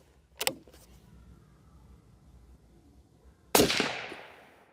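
A Savage 110 Trail Hunter rifle firing one loud, close shot that rolls off in a long decaying echo, preceded by a shorter sharp report, with no talking.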